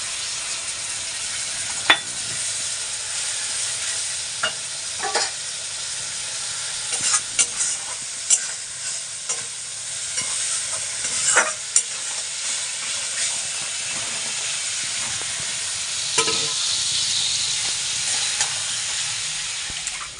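Spices and potatoes frying in hot oil in a home kitchen, with eggs fried beforehand: a steady close sizzle and hiss with occasional sharp crackles and stirring scrapes, no talking.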